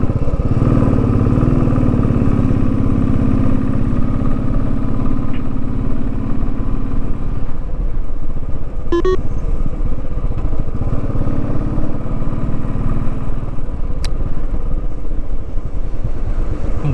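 Motorcycles climb the hairpin bends of the Kolli Hills road, a loud, close, continuous engine drone with a slight clatter that holds steady throughout.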